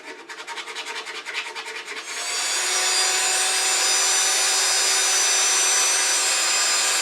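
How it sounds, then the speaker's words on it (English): Sandpaper held by hand rubs a wooden bowl with a bark rim as it spins on a lathe: rhythmic scraping strokes at first, then a steady, loud, continuous hiss and whir. "Do a little hand sanding here"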